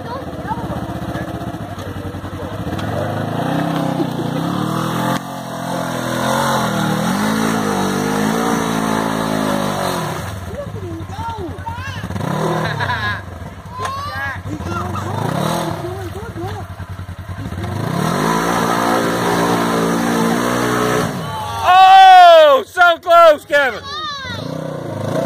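A Polaris RZR 900 S engine revs hard through deep black mud in repeated rising and falling surges, loud and close, with people's voices and shouts heard over it.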